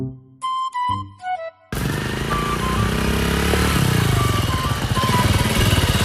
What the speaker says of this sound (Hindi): अभी बाइक उठाते हैं और चलो वाह चक्कर लगा